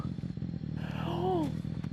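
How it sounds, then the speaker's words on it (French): A Yamaha motorcycle engine in the video game Fortnite revs briefly with a rising whine, sitting under a player's steady talk. "On est une moto Yamaha."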